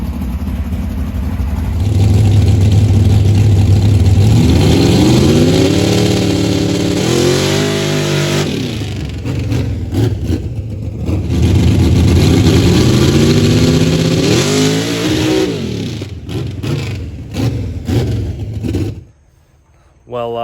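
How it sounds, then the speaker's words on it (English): Drag car with a Powerglide transmission launching on a run without nitrous, its engine roaring loud and close, climbing through two long surging pulls with gear changes, then easing off near the end. "so I did the first run there with no nitrous just to see what it would do"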